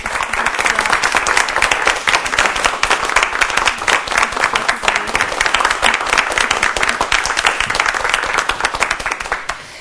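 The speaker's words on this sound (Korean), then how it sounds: "큰 박수로 맞아주시기 바랍니다." Sustained audience applause for a university president arriving at a servant-leadership lecture, dense steady clapping from a sizable crowd throughout, fading slightly at the end, with no talk over it.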